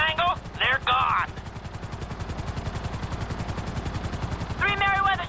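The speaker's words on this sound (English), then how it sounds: "Three Merryweather choppers coming right at us!" Merryweather helicopters in GTA 5 close in with a steady, loud rotor chop pulsing throughout, while a voice breaks in with excited shouts near the start and end.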